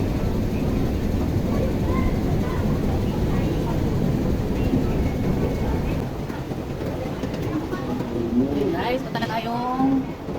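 A train in Hong Kong rumbles steadily in the background at a station, a constant low roar that lasts the whole time, with people's voices and faint bird chirps mixed in.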